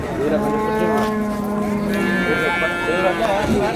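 Cattle moo loudly and repeatedly at close range at the Vaniyambadi native cattle market, long drawn-out lowing calls overlapping one another, with voices talking in the background.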